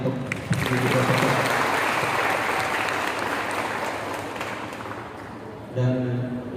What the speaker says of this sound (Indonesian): Boleh beri tepuk tangan yang meriah untuk ibu dosen.